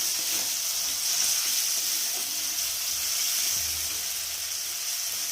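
Chopped tomatoes fry in a pan for egg bhujia, giving a steady, close hissing sizzle with faint stirring touches and no talking.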